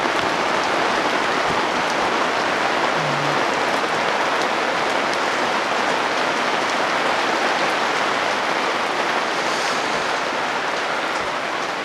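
Steady rain pattering on surfaces, a continuous dense hiss of drops with no voices, constant in level throughout.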